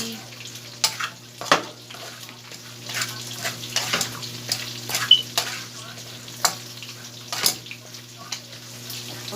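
Okra (dharosh) bhaji frying in a pan about to be covered, soft sizzling broken by repeated sharp scrapes and clinks of stirring, with a low hum under it.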